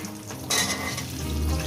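Potatoes, beans and other vegetables sizzle and fry in hot oil in a kadai for a rui fish-head chorchori, a steady loud crackle that swells as more pieces are added.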